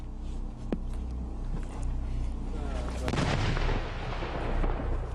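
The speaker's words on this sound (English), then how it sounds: "So this big gun that's firing now, it's not a cannon, it's a recoilless rifle." A recoilless rifle firing during a 2008 battle in a village in Bajaur, heard as a heavy distant boom around the midpoint over a constant rumbling background, with a sharper crack earlier on.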